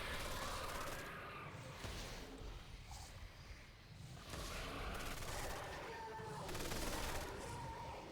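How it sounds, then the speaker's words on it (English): Automatic turrets fire in a Call of Duty: World at War custom zombies map, with rough bursts of rapid gunfire rising and falling. The shots are quiet and slightly distant in the game mix. "Oh, yeah, it's auto turrets."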